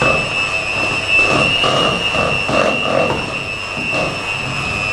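An electric hand mixer runs on low speed through cupcake batter, a steady close whirring drone with a faint rhythmic churning as the beaters move through the mixture.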